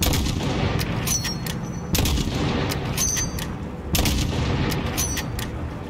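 Loud, dense gunfire in Call of Duty Modern Warfare during a vehicle ambush, with rapid volleys of shots and booming impacts repeating in waves of roughly two seconds, close and continuous.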